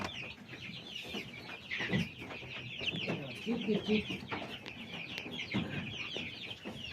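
A newly hatched chick, just out of the egg, peeps in a steady stream of high chirps close by, with a few lower murmurs and faint bits of talk underneath.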